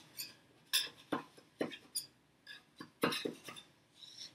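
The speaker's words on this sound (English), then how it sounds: "just go ahead and give a cut around all of the sides just to loosen it up from the" A knife run around the sides of a pan of cream cheese banana bread, giving a string of short, close scraping and clinking strokes against the metal in a quiet room.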